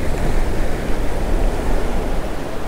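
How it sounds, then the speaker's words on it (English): Ocean surf breaking on a beach during early spring pompano surf fishing, heard as a continuous close roar of churning water and wind that never lets up, with no voices. "we got like the biggest waves of the day"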